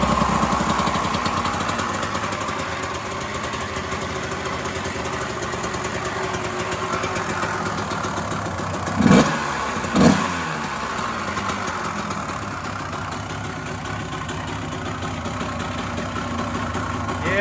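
A dirt bike engine runs steadily at a loud, close idle, with two brief revs blipping up near the middle before it settles back to a rough, even idle.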